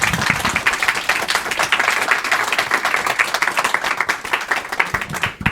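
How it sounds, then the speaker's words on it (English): After a film premiere screening, with a Q&A to follow, the audience breaks into loud, dense applause that continues throughout, then thins near the end. "By a round of applause. How did you enjoy it?"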